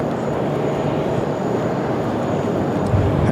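UPS cargo plane coming in to land at Sydney Airport, its steady broadband engine roar filling the air throughout, loud and continuous without pause.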